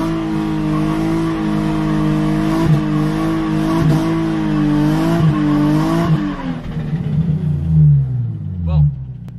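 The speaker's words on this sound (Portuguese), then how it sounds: "como vocês puderam ver, esse é o burnout em movimento" A car does a burnout while rolling, its engine revving loudly and its tires squealing in rising and falling waves before the sound fades away. Voices are heard over the noise.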